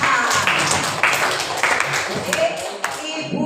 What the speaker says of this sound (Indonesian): Coba tepuk tangan buat Raihan